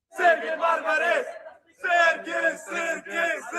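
Bosnian fans at Lambert Airport in St. Louis chant and cheer loudly for their national soccer team in two rhythmic bursts, separated by a brief pause.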